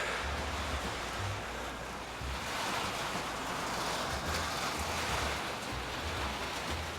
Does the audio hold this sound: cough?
no